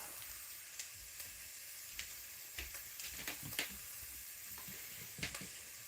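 Butter sizzling in a hot pan while cooking brunch tacos, a soft continuous hiss with scattered sharper pops and crackles, close and fairly quiet.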